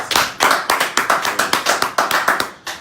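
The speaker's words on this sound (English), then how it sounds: "You guys give me a round of applause." Clapping at a live political talk event comes in a crisp, regular rhythm of about a dozen loud, evenly spaced beats, close and uninterrupted by speech.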